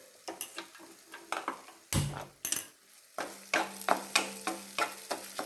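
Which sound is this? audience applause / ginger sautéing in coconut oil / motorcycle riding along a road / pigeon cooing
ginger sautéing in coconut oil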